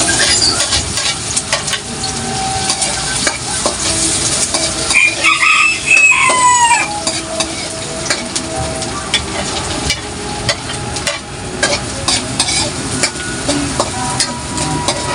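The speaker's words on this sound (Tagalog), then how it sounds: "gigisa ko na yung sibuyas, bawang, luya." Onion, garlic and ginger sizzle and crackle steadily in a hot pan, loud and close with occasional stirring scrapes, while a rooster crows faintly in the background.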